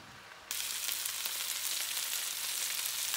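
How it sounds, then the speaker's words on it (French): Mutton choukouya cooks covered over low heat; after a brief quieter moment a soft, even hiss rises suddenly and holds steady. "il faut couvrir et puis laisser à feu doux et puis contrôler la cuisson"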